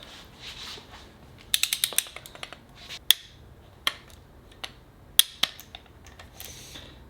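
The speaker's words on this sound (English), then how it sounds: "These get torqued down to 25 Newton meters." A torque wrench on a Subaru STI six-speed transmission being rebuilt makes a quick run of sharp ratchet clicks followed by several isolated loud clicks and clacks over a quiet background.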